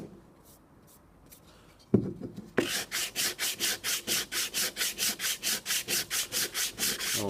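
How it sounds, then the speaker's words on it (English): A sanding block works over the flat surfaces of a wooden mechanical box in fast, rhythmic back-and-forth strokes, loud and close. Quiet handling noises come first, then a knock before the sanding begins. "sanding block, and I'm just going to cut back these surfaces just to get that as smooth as possible"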